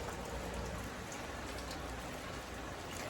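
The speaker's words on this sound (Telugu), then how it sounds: "ఫుల్ వర్షం వస్తుంది ఫుల్ వర్షం వస్తుంది" Heavy rain pours down in Warangal, a dense, even hiss of drops on surfaces that holds steady and fairly quiet throughout, with no voices.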